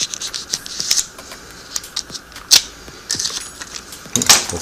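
A plastic-wrapped chipotle sausage package is cut open on its back side, with close crinkling and scratchy snips in short bursts and no talking.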